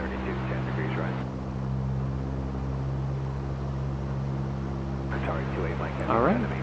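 A simulated PA-28 piston engine in Microsoft Flight Simulator drones steadily as the throttle is raised to 2,000 RPM, a constant low hum throughout, with someone speaking briefly at the start and again near the end.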